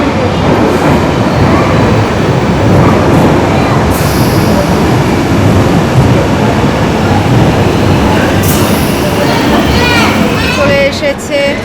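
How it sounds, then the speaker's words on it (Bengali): A train pulls into a London station, a loud steady rumble of wheels and carriages filling the platform, with brief brake squeals near the end. "এসেছে আমাদের ট্রেন।"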